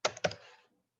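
Computer keyboard typing a command: a few quick, close keystrokes in a short burst, then a brief tail and silence, with no talking.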